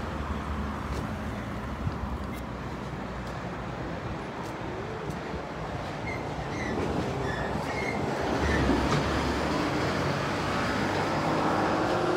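A train rumbles overhead on a railway line above an underpass near Woodridge station in Brisbane, a steady broadband roar with wheels faintly squealing and growing slightly louder toward the end; no voices.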